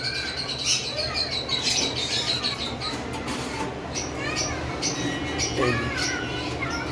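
Pet birds such as conures, cockatiels and lovebirds chirp and squawk at a bird farm, a busy overlapping mix of sharp calls and tweets at close to moderate distance.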